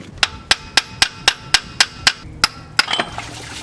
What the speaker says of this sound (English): Oh, gotta get the water pump puller.